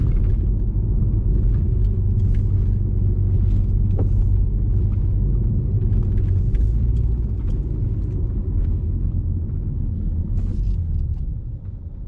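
A rally car's engine rumbles continuously from inside the cabin during a fast timed run, a steady low drone with faint ticks and knocks, no talking heard.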